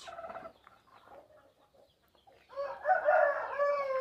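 Chickens and young chicks on a small home farm cluck and chirp, with soft scattered calls at first, then a louder, denser burst of overlapping clucking from close by.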